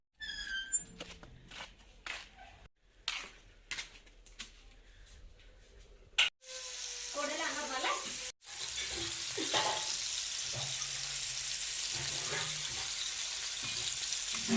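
Fish frying in a pan for an Odia meal of fried fish with pakhala, a steady close sizzle that starts partway in and runs on alone after clattering kitchen handling.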